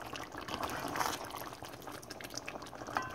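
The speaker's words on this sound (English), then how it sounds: "then I'm gonna turn it down and let it simmer." Jamaican oxtail simmers in a pot, a quiet, continuous bubbling and gentle liquid burble heard close up with no talking.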